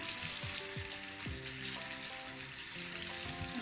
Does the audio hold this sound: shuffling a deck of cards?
no